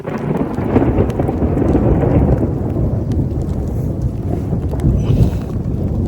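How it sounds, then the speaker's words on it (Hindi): Heavy rain pounds steadily on a stony mountain trail during a trek to Triund, a loud dense roar with wind buffeting the microphone and a deep rumble throughout. "भाई, बहुत तेज होने लगी बारिश।"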